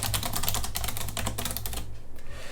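Keys clatter in a quick, continuous run of typing on a computer keyboard as a question is entered, close and clear before trailing off near the end.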